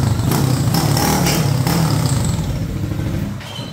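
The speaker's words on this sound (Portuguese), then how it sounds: "Vamos passar um dinamômetro e vamos ver que tem de potência essa moto aqui" A customized Honda CG 150 motorcycle engine revs hard on a dynamometer, a loud, close, sustained roar with rattling clatter that eases off toward the end.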